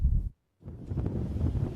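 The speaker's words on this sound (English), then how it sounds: "Gusts of wind sent snow flying sideways, sticking to trees and signs along the highway." Wind gusts buffet the microphone on a highway in southeastern Minnesota during a whiteout snowstorm, a loud low rumble that cuts out briefly and then returns steadily.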